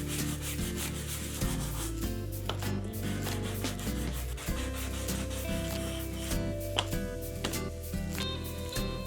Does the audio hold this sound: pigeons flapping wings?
no